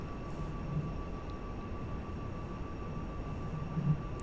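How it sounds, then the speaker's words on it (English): A jet aircraft in the GTA Online video game gives off a steady, unbroken roar with a low rumble that holds at an even level throughout. "Oh, Alex is in a jet."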